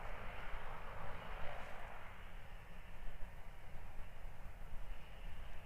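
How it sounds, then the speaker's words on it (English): A Cessna Caravan sightseeing plane at snowy Queenstown Airport in New Zealand drones with a steady broadband engine roar that holds at an even, moderate level throughout. "Lovely little plane there, eh?"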